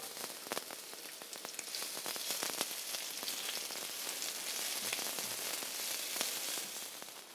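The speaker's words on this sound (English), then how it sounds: "Now we're gonna fry the shallots and the garlic on quite high heat," Shallots and garlic sizzle and crackle steadily in hot oil over high heat close up, a dense spattering hiss with occasional sharper pops.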